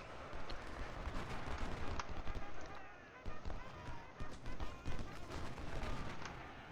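Gunfire in the Ultimate General: Civil War game: scattered distant musket volleys and cracks over a busy battlefield din with running and hoofbeat-like thuds, fairly faint and continuous, with no clear talk.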